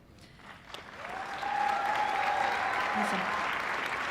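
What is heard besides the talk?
audience applause at nursing pinning ceremony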